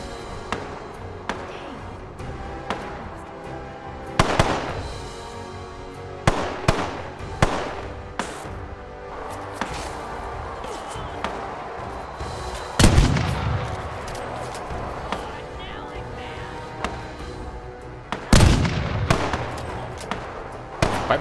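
Rapid weapon fire in a post-apocalyptic ruins video game, a hyper weapon firing like a minigun: loud, dense bursts of cracking shots with heavier booming blasts standing out at intervals, continuous throughout with no talk.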